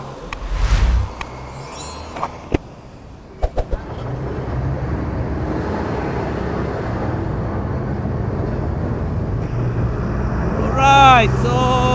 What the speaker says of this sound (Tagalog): Maraming sasakyan, maraming truck.